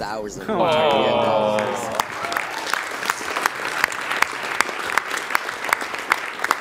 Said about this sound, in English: Oh, you guys are already applauding.